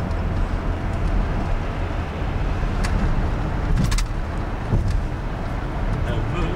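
Car driving fast through an obstacle, with a steady broadband engine and road rumble throughout and brief clattering bumps, under excited talk and shouting.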